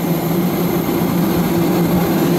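Atlas Global passenger jet engine drones steadily in flight, a loud constant cabin roar with a low hum and broadband hiss, no talking.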